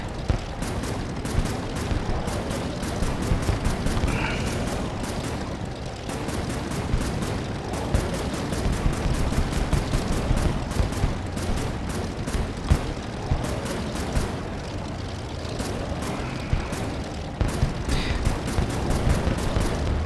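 Rapid bursts of game gunfire rattle on as an aircraft is shot down in the Air Wars 3 video game, dense continuous shooting with occasional louder impacts and no talking.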